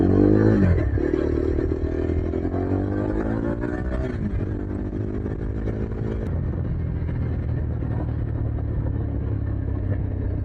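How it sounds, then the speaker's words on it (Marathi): A large truck passes on the road, heard from a motorcycle, as a loud, continuous engine rumble with a rising drone early on that settles into steady road noise. "बाबा ट्रक आला रे भला मोठा."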